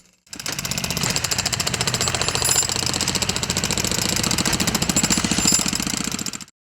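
A jackhammer breaking up roof debris during demolition of an old building's roof pounds in rapid, continuous bursts, loud and close, hammering steadily for several seconds before cutting off abruptly.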